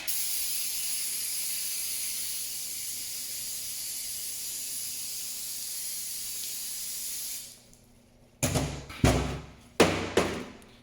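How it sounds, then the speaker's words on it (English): Brake cleaner sprayed on a Polaris Sportsman 850 pinion unit: a steady, close aerosol hiss lasting several seconds, then a pause and a few knocks and thumps. "I'm just using some brake cleaner here."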